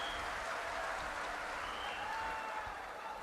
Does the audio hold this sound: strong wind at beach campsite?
no